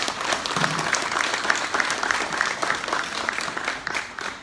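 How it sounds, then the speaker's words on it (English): A crowd at an awards ceremony gives a round of applause, a thick wash of many hands clapping at an even, lively pace that holds steady and then begins to fade toward the end. "The least we can do tonight is to give a resounding round of applause to Mr."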